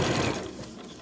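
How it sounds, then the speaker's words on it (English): A sewing machine stitches along the edge of bunting tape folded in half, a brief close burst of whirring that fades as it slows. "I'm just going to sew along the edge of that tape"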